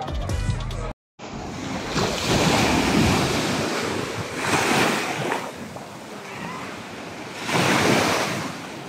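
Waves surge and break on a beach at Koh Samet in Thailand under heavy wind buffeting the microphone, loud swells rising and falling in several slow washes after a brief cut.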